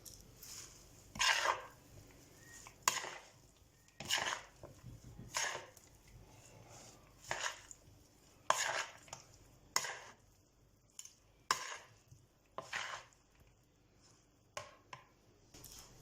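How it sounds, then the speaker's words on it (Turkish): Potato salad with lettuce, black pepper and salt being stirred in a bowl, heard as a series of scattered wet clacks and scrapes of a utensil against the bowl, close and fairly quiet, with gaps between strokes. "Bir çay kaşığı tuz ilavesi yaptıktan sonra salatamı bir güzel karıştırıyorum."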